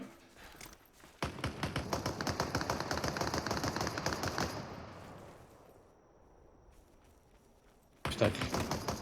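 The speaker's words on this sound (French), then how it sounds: "Ça tire pas loin, hein, dans le champ" Rapid, dense bursts of gunfire close by in the battle royale game Super People, rattling steadily for a few seconds, dying away to a quiet lull, then starting again abruptly at the end.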